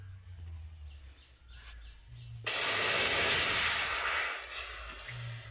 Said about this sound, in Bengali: এবার আমি কড়াইতে দিয়ে দেব তরমুজের জুসটা।